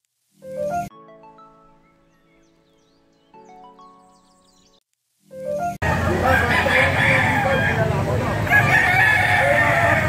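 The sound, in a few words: roosters crowing at a bird and poultry market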